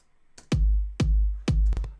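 An electronic kick drum from a kick plugin, layered with an added click. Three loud, punchy hits with a sharp attack, deep booming tails and roughly even spacing, plus a quick extra hit near the end, heard alone.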